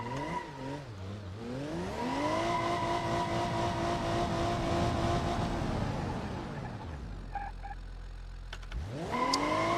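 A BeamNG.drive car with ABS pulls away with its engine climbing through the gears, then brakes hard as the revs drop. Tyres chatter briefly before the engine rises again.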